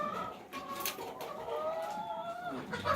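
Several hens cluck and murmur softly at a distance near their coop, a faint, uneven farmyard chorus.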